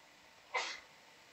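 A single sharp human sneeze bursts out briefly and loudly in a quiet room, with nothing else around it.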